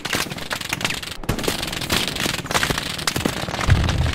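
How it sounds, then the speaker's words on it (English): Machine gun fire in the World War II shooter Hell Let Loose, dense rapid crackling bursts that go on throughout, with sharp louder cracks mixed into a constant noisy din. "MG still shooting at me."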